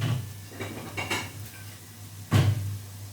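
Plates and dishes clatter in a home kitchen while stir-fried clams with chili paste are served: several light clinks and scrapes, then one louder ceramic knock, over a low steady hum.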